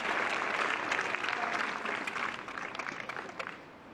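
Outdoor tennis crowd at Stoke Park applauding as Dominic Thiem gets back up after slipping during a match against Kevin Anderson: sustained, fairly loud clapping that thins and fades toward the end.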